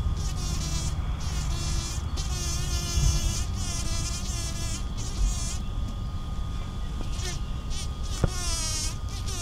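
A bumblebee buzzes loudly and close by, its drone rising and falling in pitch as it moves about a flower, with no talking.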